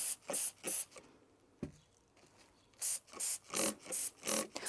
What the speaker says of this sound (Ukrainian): і тепер пшикаю водою